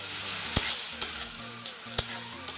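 Spice masala with cumin powder sizzling and frying in a pan for masala Maggi noodles, a steady low crackle broken by a few sharp utensil taps, close by with no talking.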